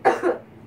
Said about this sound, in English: Inhale some and do like a cough.